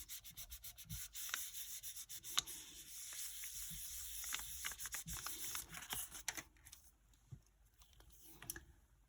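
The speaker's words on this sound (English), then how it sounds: "I want to burnish this on there really nice" Polymer clay being burnished onto a pendant by hand: soft, scratchy rubbing strokes come close up in a quick, irregular rhythm with brief pauses, and no one speaks.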